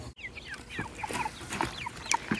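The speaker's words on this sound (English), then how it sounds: "Here are the meat birds." Meat chickens cluck and chirp nearby in a chicken tractor, a scattered run of short calls overlapping at close range, with no talk.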